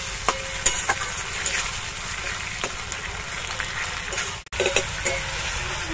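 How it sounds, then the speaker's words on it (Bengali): Cabbage manchurian frying in a pan with tomato, red chili and dark soy sauces, a constant close sizzle dotted with spoon taps and stirring clatter, cut by a brief pause partway through. "দিয়ে দেব টমেটো সস, দিয়ে দেব রেড চিলি সস, দিয়ে দেব ডার্ক সয়া সস, সবকিছু ভালোভাবে ভেজে নেব একটু।"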